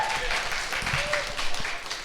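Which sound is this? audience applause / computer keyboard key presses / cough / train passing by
audience applause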